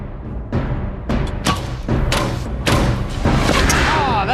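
An arrow machine gun firing arrows at targets, a rapid series of loud thumping launches and impacts one after another, close and forceful throughout.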